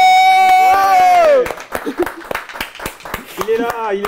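An audience applauding a returning guest at a studio show, with a burst of scattered claps under loud overlapping talk after an initial stretch of speech.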